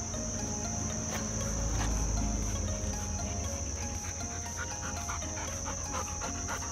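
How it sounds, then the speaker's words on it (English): A dog pants steadily while approaching on a morning walk outdoors, with insects and crickets chirring constantly in the background; no talk. "Here comes the dog."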